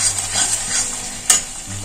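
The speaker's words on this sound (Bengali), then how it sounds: "মশলা খুব ভালো করে কষানো হয়ে গেছে।" Masala spices sizzling in hot oil while being stirred, a steady close frying hiss with one brief scrape of the spoon against the pan.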